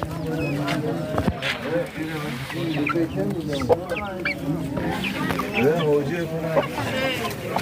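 Chickens and roosters cluck and squawk continuously at a busy poultry market in Mastchoh, Tajikistan, their calls overlapping with people haggling loudly nearby.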